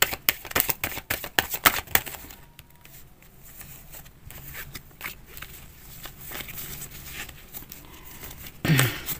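Tarot cards are shuffled by hand close up, with quick crisp riffles and snaps at first, then softer sliding and handling of the deck, and a few sharper slaps near the end.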